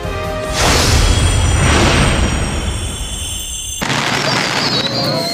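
New Year community fireworks display boom repeatedly in deep rumbling bursts, one after another, over a constant wash of crowd noise and crackle.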